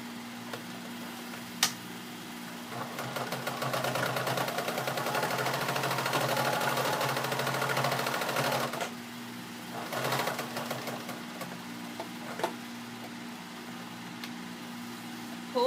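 A sewing machine runs in one steady stretch of stitching through a folded raw edge on a denim apron made from old jeans, stops, then gives a few short bursts, with a steady hum beneath and occasional clicks.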